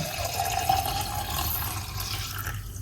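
Salted cucumber lemon water poured off from a container, a close, fairly loud liquid pour with a trickling, splashing wash that tapers off near the end.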